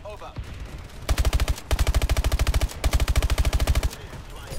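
Automatic weapon fire in Call of Duty Advanced Warfare, two long rapid bursts of evenly spaced loud shots close up, separated by a short pause, with a brief gap before the first burst.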